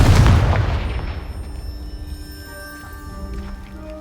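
A Confringo blasting spell explodes in Hogwarts Legacy, a loud deep boom that hits at once and then rumbles and rings away for a few seconds, with no talk over it.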